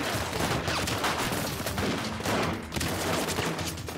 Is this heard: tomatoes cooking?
no